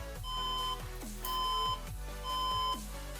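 Electronic beeps from a PC that was dropped repeat in a steady pattern, three pulsed tones spaced about a second apart, clear and moderately close with low hum beneath.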